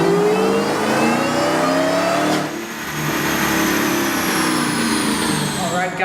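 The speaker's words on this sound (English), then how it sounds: "You're going to love hearing the sound of the HellScat, the supercharged whine of the Hemi engine on the dyno." The supercharged Hemi engine of a HellScat revs hard on a dyno, its loud continuous roar layered with a rising supercharger whine, which briefly dips before climbing again.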